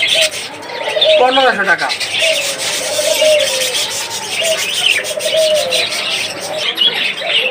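Caged budgerigars and Australian doves at a bird sale: a loud, close dove coo with steady chirping and twittering throughout, while someone talks over them.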